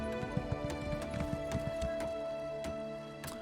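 Rhythmic clip-clop of horse hooves in Elder Scrolls Online trots steadily at first, then slows and stops, over a constant low droning background tone.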